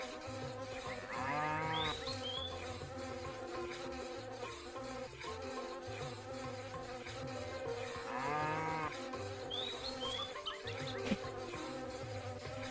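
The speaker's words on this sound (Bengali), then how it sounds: "মিনা আর মিনার বাবা প্রথমে গরু থেকে দুধ দোয়ান করেন" A cow being milked in a Bangla Meena cartoon gives two drawn-out moos several seconds apart. A dense backdrop of music and buzzing insect-like sounds plays throughout at a fairly low level.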